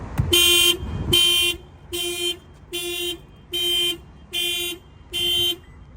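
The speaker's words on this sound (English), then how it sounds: "you're going to see that the alarm's going to go off" A Toyota Corolla's car alarm, triggered by an added shock sensor, blares in repeated bursts, seven loud electronic tones about a second apart, close by, after a brief thump at the start.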